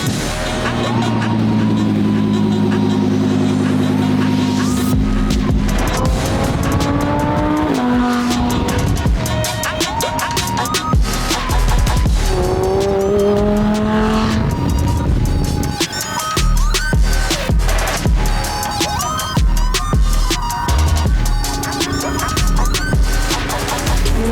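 Supercharged widebody Lamborghini on a first drive, a loud engine revving and shifting through rising and falling pitches, with occasional tire squeal and voices mixed in.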